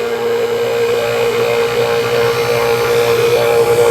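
A vacuum pump draws down a car's A/C system with a loud, steady mechanical whine and hum, close and unbroken throughout, with no voices.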